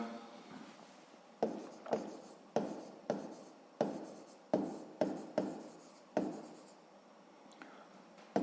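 Pen strokes on paper while working a sixth-grade math exercise by hand: a rhythmic series of about a dozen short scratchy strokes, close and fairly quiet, with no voice.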